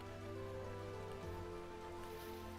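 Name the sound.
rain in the video game Vintage Story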